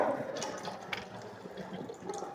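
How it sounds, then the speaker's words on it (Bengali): Water running from a sensor-activated tap, a soft, close splashing stream that flows steadily with small fluctuations, faint and without speech. "জল পড়ছে, আমি হাতটা সরিয়ে নিলাম আবার।"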